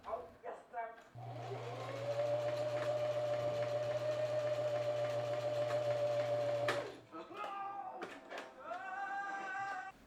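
A sewing machine runs in one steady, sustained burst, stitching fabric seams for a book sleeve, with brief handling clicks and a voice heard before and after the run.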